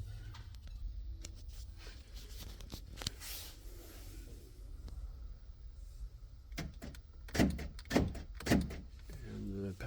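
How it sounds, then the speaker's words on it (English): Passenger door lock actuator on a 2005 Ford Thunderbird: several quick mechanical clunks near the end, close and fairly loud over a steady low hum inside the car. "Passenger door lock"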